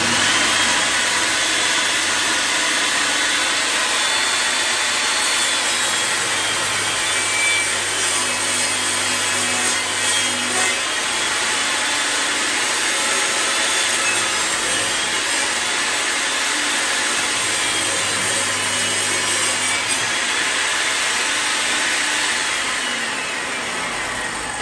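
Piece of wood fed through a saw against a rail fence set to 29 mm, a loud, steady, hissing roar of cutting that lasts throughout with a slight swell in the middle, with no talk over it.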